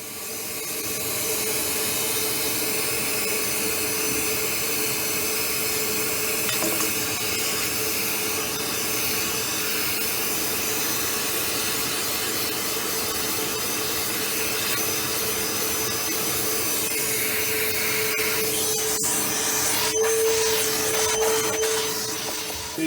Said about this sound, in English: throw the vacuum from the other side and just suck up any water that's going to come down with it